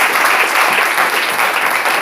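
Church congregation applauding during a worship service, loud and dense sustained clapping filling the room with no break.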